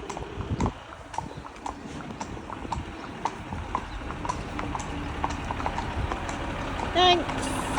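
Steady clip-clop of horse hooves on a hard road, a regular walking rhythm, with people talking over it at moderate distance.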